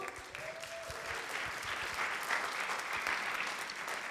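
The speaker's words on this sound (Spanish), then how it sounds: "Por favor, denle un fuerte aplauso al Señor" A church congregation applauds during a Sunday-morning sermon, a steady wash of clapping from many hands heard at a fair distance for several seconds.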